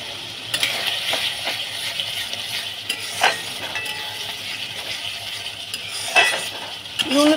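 Onion, ginger, garlic and green chilli masala fries in a pan, a continuous loud sizzle broken by repeated spatula scrapes and metallic clinks against the pan, with no talking.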